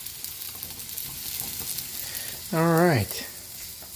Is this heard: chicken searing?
yes